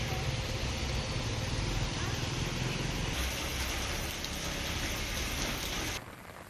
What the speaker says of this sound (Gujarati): વહેલી સવારથી જ ગાજવીજ સાથે રાજપીપળામાં ભારે વરસાદ વરસ્યો.